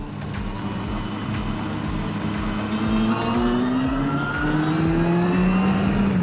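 A motorcycle engine revs on the open road through a gear change, its pitch climbing steadily with a continuous loud drone and wind noise, with no voices.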